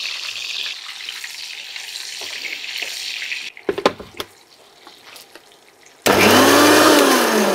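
Eggs frying lightly in a pan give a steady sizzle over a low flame, broken by a few clattering knocks and a quiet stretch, then a loud whirring grinder-like roar takes over at the end.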